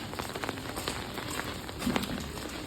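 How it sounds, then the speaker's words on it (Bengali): Rain falls steadily outdoors on a street, a dense continuous hiss with scattered drop patter, moderately close and unbroken, with no talk over it. "দেখো বৃষ্টি পড়ছে কেমন"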